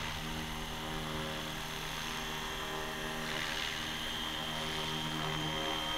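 A FW450L-V3 RC helicopter flies and climbs, giving a steady whining rotor and motor hum with a brief rise in pitch partway through, heard alone at moderate distance.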